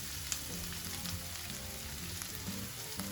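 Garlic fries in a pan with softened seasonings for a Bahian fish moqueca, a quiet, steady sizzle with a few faint clicks and no talk.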